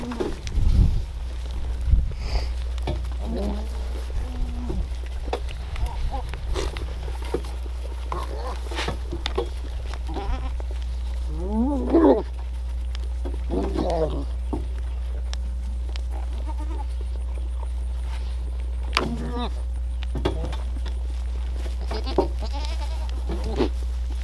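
Kiko goats bleating in a pen, several wavering calls scattered over a steady low hum, some near and loud, others fainter, with occasional bird sounds in the background.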